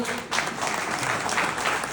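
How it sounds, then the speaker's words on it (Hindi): An audience at a health and wealth seminar in Almora clapping loudly and continuously, a dense burst of applause filling the room. "अब ताली बजानी है तो जोर से बजा लो"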